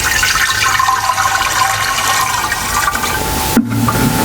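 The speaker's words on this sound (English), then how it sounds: "We're going to pour it in here." Bleach and water solution poured into a machine, a loud continuous gush of liquid that splashes and fills, then cuts off abruptly near the end.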